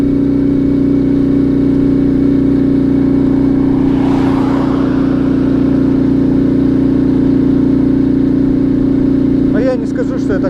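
Small 72cc Alfa moped engine laboring uphill on a wilderness road, a steady close drone with strong low harmonics that holds constant as speed drops, with a brief gusty swell midway and a short voice near the end.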